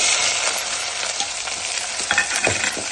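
Onion hits hot oil in a pan for ragi uppittu, a close, bright, crackling sizzle with a few stirring scrapes near the end.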